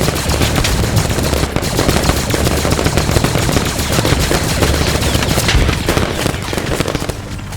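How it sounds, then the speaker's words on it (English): Blaster gunfire in the Star Wars video game Galactic Contention, a dense, continuous barrage of rapid shots and bursts filling the scene at steady loudness. "you better try shooting this blaster for yourself, single fire or automatic"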